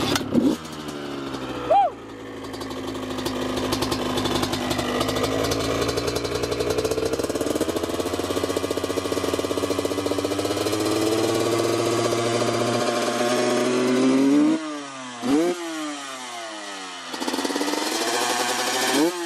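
A Honda CR 125 two-stroke motorcycle sputters and revs after repeated kick-start attempts, with mechanical clattering and rising whines; a few brief bursts stand apart near the end.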